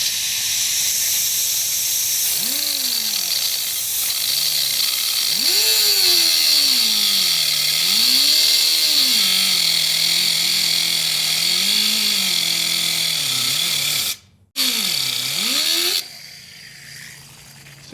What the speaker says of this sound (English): this one we're gonna have to grind a little bit into a screwdriver shape